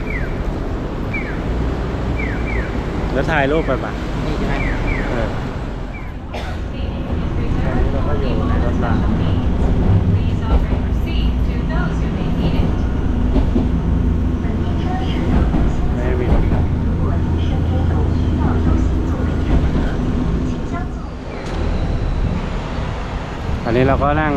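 A train rumbles steadily through a railway station in Kyoto, Japan, a low continuous roar with metallic squeals, and voices murmur in the background.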